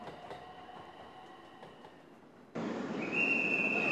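An electric train sits at a platform at Kyoto's Nijo Station with a low hum, then a sudden loud rush of noise and a high steady tone as the local train to Saga-Arashiyama starts up.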